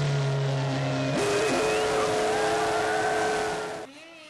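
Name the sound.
Renault Formula One racing car during practice at Monza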